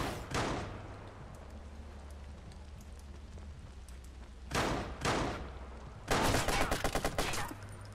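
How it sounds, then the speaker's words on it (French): Bursts of automatic machine-gun fire in the video game Watch Dogs, several loud rapid volleys separated by quieter stretches over a steady low background hum. "Je te défonce à la mitraillette."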